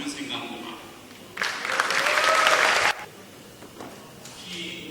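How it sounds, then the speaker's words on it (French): Audience applause at a European film festival in Kinshasa greets a film director, a loud burst of clapping in the middle that rises and then drops away, with announcer talk before and after. "inviter sous vos applaudissements"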